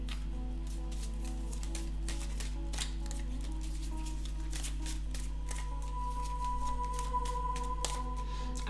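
Tarot cards shuffle close by in a steady run of soft, papery flicks over a low background hum.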